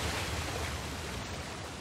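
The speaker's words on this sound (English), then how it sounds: "Another waterfall." Steady, full-spectrum rush of a waterfall in the video game Uncharted: The Lost Legacy, a dense unbroken roar of falling water that stays constant and fairly close throughout, with no voices.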